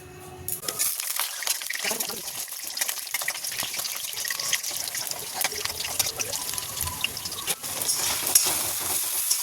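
Vegetarian curry masala of potato, ginger, chilli, tomato and cumin powder frying in a pan, a continuous close sizzle with repeated scraping stirs and small clatters, growing slightly louder toward the end.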